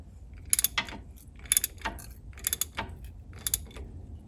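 A ratchet tightens a bolt on the timing belt tensioner of a 1997–2008 Toyota Camry in four short bursts of clicking, each followed by a metallic scrape. The sound is close, with no talk.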